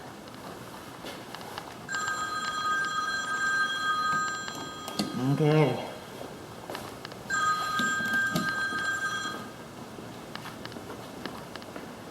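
A telephone rings inside a 1990s house in North Dallas: two long bursts of bright electronic trilling, separated by a man's nearby speech and a few footsteps.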